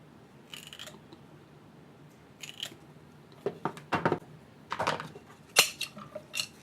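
Scissors snip through underwater slingshot bands in a quiet room, producing a scattered series of short, crisp cuts and clicks that grow denser and louder toward the end, with no voices.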